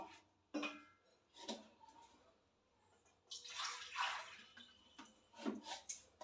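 Water is poured into mashed toor dal for a rasam, giving soft splashing and trickling bursts with brief pauses between pours, heard close and fairly quiet.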